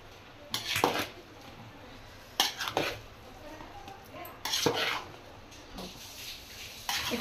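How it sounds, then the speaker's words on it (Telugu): Chicken biryani rice being stirred and mixed in a pot, with scattered metallic scrapes and clinks of a spoon against the vessel in separate bursts, fairly close. "ఇట్లా రైస్ అంతా మంచిగా కలుపుకోవాలి."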